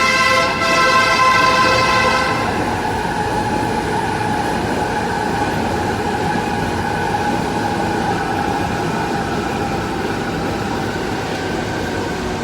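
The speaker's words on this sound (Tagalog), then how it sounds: "Dito na ako ngayon sa station ng tren papuntang Cubao. At naghihintay ng tren na dadaan." A train rumbles steadily into a railway station on the line to Cubao, loud and close, with a brief horn-like tone at the start fading into a continuous rolling roar.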